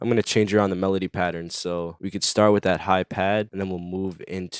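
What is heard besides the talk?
No everyday noise stands out behind the speech.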